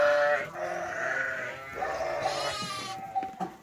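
Several farm sheep bleat in overlapping, wavering calls, close and loud, with a few short sharper bleats near the end.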